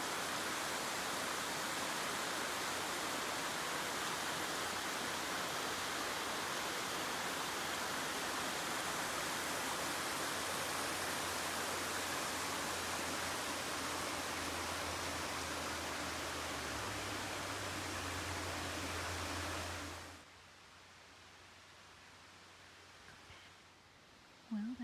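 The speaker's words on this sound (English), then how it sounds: "here's a spur path to some cascades" Cascades of a waterfall beside a White Mountains hiking trail pour in a steady, loud broadband rush that fills the scene for about twenty seconds before dropping off to quiet.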